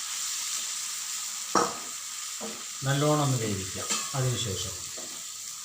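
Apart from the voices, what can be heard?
chicken sizzling in a pan after adding sauce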